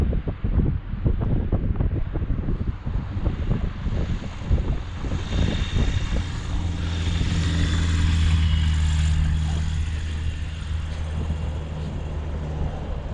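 A small propeller aircraft comes in to land near a beach, its engine drone rising and swelling overhead through heavy wind buffeting, then fading.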